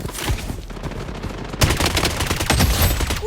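Dense bursts of automatic gunfire from the first-person shooter Blood Strike, close and loud with rapid overlapping shots that intensify after a brief lull.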